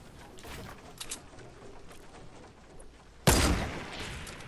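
A single loud gunshot from the Fortnite Battle Royale video game cracks out sharply and fades, preceded by a few fainter, scattered shots against quiet game ambience.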